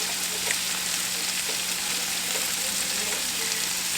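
Hamburger gravy made with milk cooking in a pan, a steady close sizzling bubble with faint stirring scrapes, continuous and fairly loud, with no one speaking.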